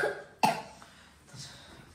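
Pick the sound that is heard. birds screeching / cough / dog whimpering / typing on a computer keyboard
cough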